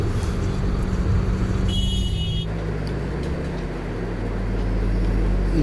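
Steady road traffic noise fills a drive through Delhi between ITO and Moti Nagar in summer heat, a continuous engine rumble with passing vehicles close by and no talk.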